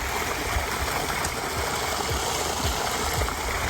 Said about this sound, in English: It's got a Aquascape 4000 pump in it, so it's got plenty of water movement and flow.